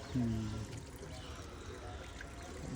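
Water trickles and pours steadily throughout, with a voice speaking briefly near the start.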